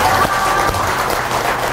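Audience applause at the close of a Buddhist dharma service, a dense, steady wash of many hands clapping, fairly loud and continuous for about two seconds.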